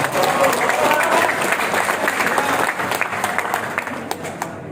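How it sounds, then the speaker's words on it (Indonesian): An audience at a political gathering breaks into sustained applause, dense clapping that stays loud for several seconds and then slowly thins out. "Beri tepuk tangan."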